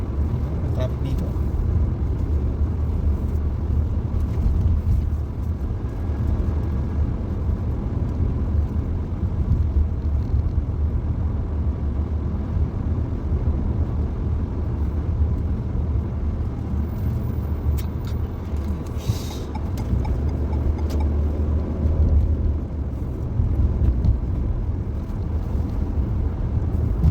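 Road traffic heard from inside a moving car, a constant low rumble of engine and tyres with faint passing vehicles, while people talk over it now and then.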